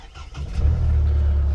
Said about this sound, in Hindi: और फिर जब आप इस गाड़ी को स्टार्ट करते हैं